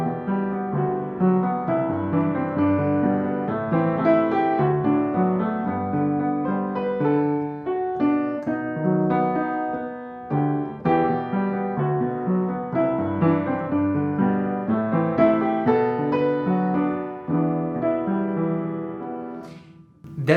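Solo piano playing the Kiki's Delivery Service main theme, a continuous melody over flowing chords with rich sustained notes at moderate volume and no talking.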